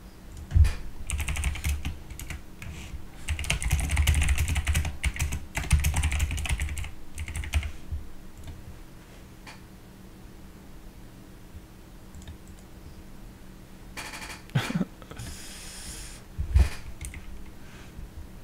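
Rapid typing on a computer keyboard during online poker play, bursts of close clicking keystrokes alone, pausing for a stretch before a few more scattered taps.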